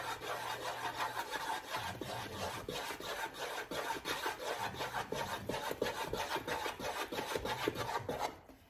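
Spoon stirring melting marshmallows in a pot for rice krispie bars, a steady rhythmic scraping and rubbing that repeats many times, close and fairly loud throughout with no talking.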